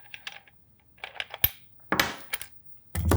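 The grinding disc on a Bosch 18V cordless angle grinder being changed, heard as sparse metallic clicks, taps and clunks of parts being handled, with a couple of louder rattling knocks near the end and no talking.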